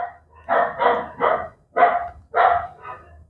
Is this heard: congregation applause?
no